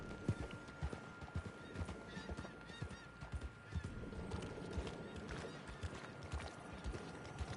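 Horse in the Red Dead Online video game, steady clip-clop of hooves with occasional neighs and whinnies over a busy, dense game soundscape, moderately loud throughout.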